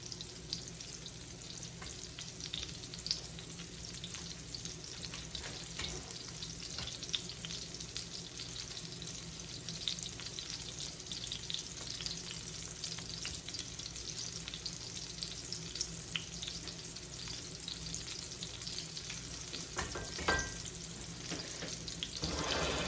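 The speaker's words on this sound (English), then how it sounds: "I'll let you watch for a little bit and hear that sizzle" Steady, dense sizzling of buttermilk chicken tenders frying in a pan, constant crackle and spatter throughout with a faint clink near the end; no talking.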